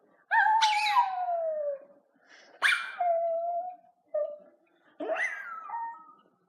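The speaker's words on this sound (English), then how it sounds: "Is that not the cutest, tiniest little howl you've ever heard in your whole life?" A small dog lets out high, thin howls in three separate bursts, each wavering and trailing off, with short pauses between them.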